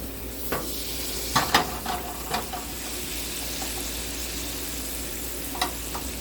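Steaks sizzle steadily in a hot oiled pan, a dense continuous hiss broken by a few sharp scrapes and clinks of a utensil against the pan, close and without speech.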